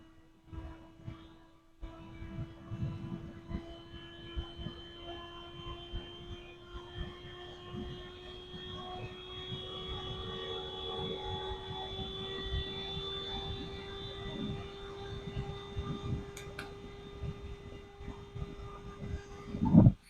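A WGMHEFUN 120mm USB fan with a speed controller runs steadily and close, a breathy wind rush over a sustained low hum and faint higher whine, with a brief thump near the end.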